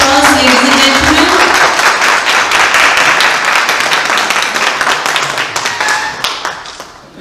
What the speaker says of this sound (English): A louder round of applause, ladies and gentlemen.